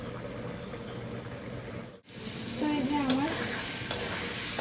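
Prawns sizzle and get stirred in a pan, a close steady frying hiss that drops out briefly, then returns louder with a short whistling tone over it.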